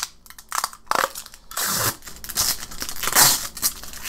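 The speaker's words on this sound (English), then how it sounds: "I will take this plastic off here." Protective plastic film being peeled off an Asus VE248H monitor, heard as a string of close crinkling, tearing rips with brief pauses between pulls.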